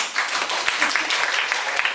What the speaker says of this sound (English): Let's give our officer members a big applause.